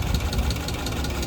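A rusty old FSO Polonez Special car engine idling steadily to warm up, a low continuous rumble with a faint rhythmic pulse throughout, close and fairly loud.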